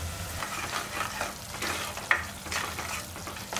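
Tomato and onion sautéing in a pan for a mutton intestine curry, a steady close sizzle with scraping stirs and a sharper clink of a utensil against the pan partway through; no talking.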